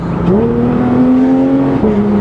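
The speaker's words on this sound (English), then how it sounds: "we still get that unbelievable, beautiful, straight 6 Porsche GT3 RS sound" A loud, rasping straight-six exhaust from a 2019 Porsche 911 GT3 RS with a titanium exhaust climbs in pitch through a sustained high-revving pull, dips briefly at a gear change, then keeps howling.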